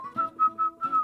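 A person whistles a short, bright, bouncy tune, a few quick notes in a cheerful rising and falling pattern, close and alone.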